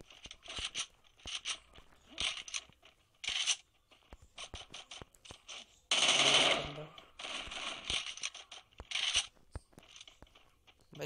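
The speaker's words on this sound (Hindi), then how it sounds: "इधर मेरे को लगता है कोई शॉटगन लेकर के आ गया है।" Gunfire in a Free Fire Clash Squad match comes as repeated sharp bursts and clustered shots spread across the scene, with one louder, longer blast in the middle.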